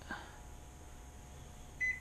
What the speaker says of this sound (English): This is in the microwave.